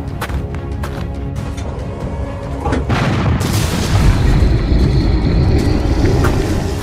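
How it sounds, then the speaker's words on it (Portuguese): Cannons firing in the Garten of Banban 4 video game trailer: a sharp blast, then a dense, heavy rolling barrage of deep booms and rumbling that builds and stays loud throughout. "Ele tá usando todos os canhões pra tentar parar"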